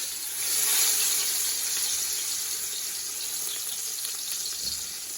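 Garlic sautéing in a hot pot, a steady bright sizzle that swells early and then settles into a continuous frying hiss, with no talking.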